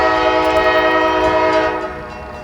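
A heavy CSX freight train on a steep grade at a railroad crossing blasts a loud, sustained, chord-rich horn from close range, which fades slightly toward the end.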